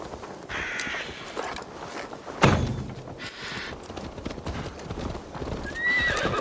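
A horse in Assassin's Creed Valhalla clip-clops along at a steady pace and whinnies, with crows cawing around it and a loud thump midway through the game scene.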